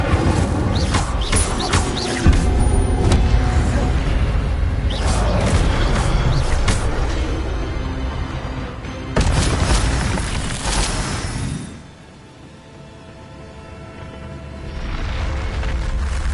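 Incendio fire spell cast in the Hogwarts Legacy video game, loud whooshing bursts and booming blasts over a dense game soundscape that drops away briefly near the end before rising again.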